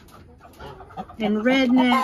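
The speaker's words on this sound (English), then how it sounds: "She's a bantam of some sort." A small bantam chicken clucks and squawks close by, its calls rising in the second half, with a brief voice speaking just before.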